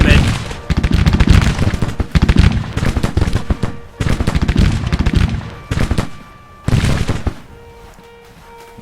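Rolling volleys of musket and cannon fire crackle through a Civil War battle at Bentonville in a strategy video game, dense bursts repeating across the clip with brief lulls, a commander's voice shouting orders over the din.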